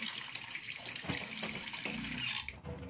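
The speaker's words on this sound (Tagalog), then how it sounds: "Tapos lalagyan natin ng tubig." Water runs steadily from a tap into a pot, a continuous close splashing with a faint squeak near the end.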